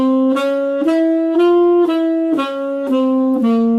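An F harmonic minor scale played as single clear, sustained notes, about eight tones stepping up then back down in an even rhythm, loud and alone with no talking.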